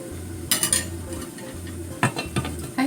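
Cabbage frying in a pan on its second side, a soft steady sizzle under several sharp clinks and scrapes of a utensil against the pan, no voices.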